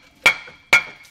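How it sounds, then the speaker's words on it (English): A screwdriver tapped against a rusty rear brake rotor on a Range Rover Sport gives two sharp metallic strikes about half a second apart, each ringing briefly with a bright, clear tone. "You can put a rotor or put a screwdriver into the rotor in one of the slots there and then tap"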